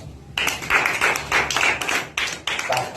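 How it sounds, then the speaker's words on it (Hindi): A group of people claps loudly in several quick, slightly uneven bursts, each crowded with many hands, with brief gaps between them and no talking. "ताली बजाओ जोर से एक बार।"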